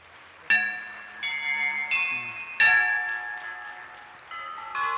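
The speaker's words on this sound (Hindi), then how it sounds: "शंखनाद हुआ है, घंटियां बज रही हैं।" Bells ring out at an inauguration ceremony at Lal Qila in Delhi: several distinct struck strikes with long ringing, shimmering tones that overlap and decay, moderately loud and clear with no talk over them.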